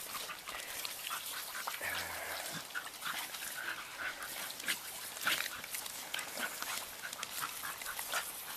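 Dogs splash and play in water spraying from a garden hose on a hot day, a constant hiss of water with scattered pants and small yelps close by.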